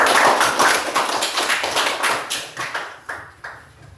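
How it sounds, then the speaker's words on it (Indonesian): Classroom students clap for a group returning to their seats, a loud close burst of many hands that thins into a few separate slaps as it dies away. "Berikan tepuk tangan kepada kelompok 2."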